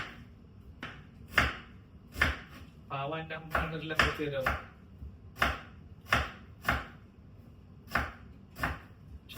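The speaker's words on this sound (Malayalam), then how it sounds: "കുട്ടി അരിയുന്ന ടാസ്ക് ആണ്." A child chops vegetables with a knife on a board in a home kitchen, giving steady sharp knocks roughly every second, close and loud, while someone talks briefly over a short stretch in the middle.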